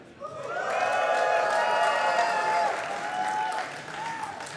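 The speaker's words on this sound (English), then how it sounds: "let's hear a cheer if you're rooting for Firouzja" A live audience at a speed chess championship event in London cheers and applauds, a sustained swell of clapping and cheering voices lasting several seconds before easing slightly.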